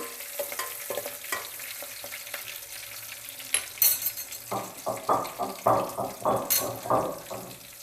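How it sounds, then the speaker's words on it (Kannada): Mustard seeds, cumin and five green chillies hit hot oil for chitranna, giving a steady sizzle followed by a string of loud, rhythmic stirring and scraping strokes in the pan, with a faint voice in the background. "ಸಾಸಿವೆ ಜೀರಿಗೆ ಹಾಕ್ತಾಯಿದ್ದೀನಿ. 5 ಹಸಿಮೆಣಸಿನಕಾಯಿ ಹಾಕ್ತಾಯಿದ್ದೀನಿ."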